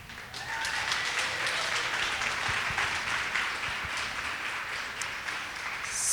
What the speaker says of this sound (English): I just want to give you all a round of applause for showing up.